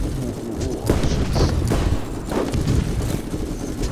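Several sharp gunshots from the video game Borderlands crack out over a noisy game background, spaced irregularly across a few seconds at moderate loudness.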